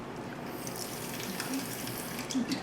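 Water drains off in a steady, splashy trickle and gush, close and moderately loud, with a few faint knocks underneath.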